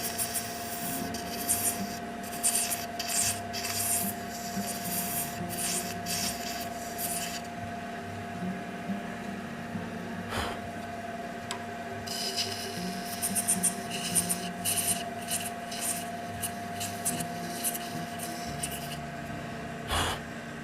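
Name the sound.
sanding a turned shaving brush handle on a lathe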